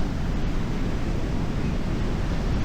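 Gentle ocean surf on a Pacific beach at Dingalan, Aurora, a steady, loud wash of breaking waves with no pauses and no voices.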